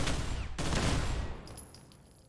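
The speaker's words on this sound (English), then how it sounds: "Those turrets actually kind of hurt." Turret gunfire in the modded game Fallout 4, a dense burst of rapid shots that fills the first part of the clip and then tapers into fainter trailing pops and ringing.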